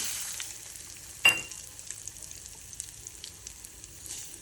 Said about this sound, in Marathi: तेल आपण चांगलंच गरम करून घेऊया पहिल्यांदाचा हिंग टाकूया हिंग छान असा गरम झाला नंतर मेथी